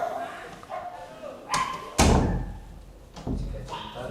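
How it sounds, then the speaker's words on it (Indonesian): A small child bangs on a door, producing a few heavy thuds and one loud slam-like bang spaced irregularly, close by, mixed with people talking and some background noise. "jangan gedor-gedor pintu."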